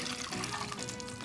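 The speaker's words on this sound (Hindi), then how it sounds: "उसमें हम पानी डालेंगे" Water poured into a kadhai holding hot desi ghee and a few cloves on a gas stove, a steady close splashing pour running the whole moment.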